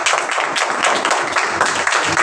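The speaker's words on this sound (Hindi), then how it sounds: "तालियां लगाएं बहन के लिए" A church congregation applauds for a sister during a service, a dense, steady wash of many hands clapping together at close range.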